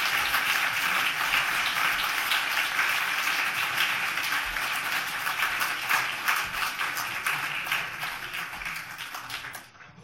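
An audience at an ethics award ceremony applauds warmly, a thick patter of many hands clapping that stays strong and then fades out abruptly at the end.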